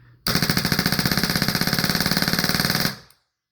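Tippmann 98 custom paintball marker rigged as a heavy machine gun dry firing on compressed air, a loud, rapid, steady mechanical burst of evenly spaced shots lasting under three seconds, then stopping abruptly.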